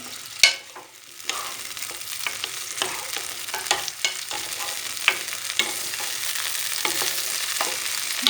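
Frozen peas are stirred in a hot pan, a soft steady sizzle broken by scraping stirs and a few sharp clinks of the utensil, close and alone without speech.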